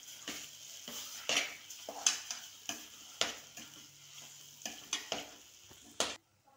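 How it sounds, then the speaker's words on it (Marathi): A spoon scrapes and clatters against a pan as a sweet potato mixture is pan-roasted and stirred for shira, in a steady series of close, crisp strokes with a soft sizzle behind, ending abruptly. "याला थोडं भाजून घ्यायचं असं।"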